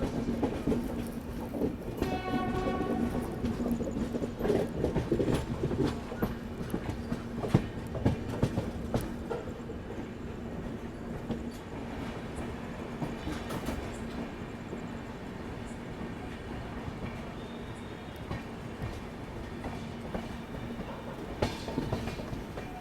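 A Lucknow–Raipur Garib Rath Express train rolls steadily along the tracks at about 110 km/h, with a continuous rumble and rhythmic clatter of wheels, close and sustained throughout.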